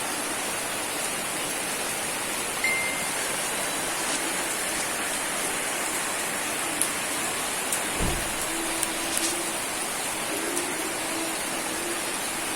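Steady rain falls outdoors, a continuous soft hiss with a few faint scattered taps and one brief low thump, without talking.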